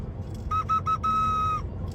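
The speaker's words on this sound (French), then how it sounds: "il a son sifflet" A bright, steady whistle sounds in three short bursts followed by one longer held tone, rising clearly above a low background rumble.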